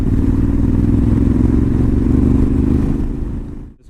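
A Honda Africa Twin with DCT rolling slowly over gravel, its engine droning low and steady with road rumble and wind, easing off and fading near the end.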